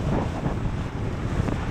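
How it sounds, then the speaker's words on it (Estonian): Steady wind roar from driving against the wind, a dense, loud, continuous rumble of buffeting with no breaks and no voices. "Tuulemürin võib olla tõesti praegu vägagi tugev võib olla."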